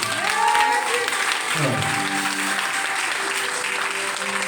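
A church congregation breaks into loud, sustained applause and cheering during a French-language sermon, a dense crowd wash with voices rising in it throughout.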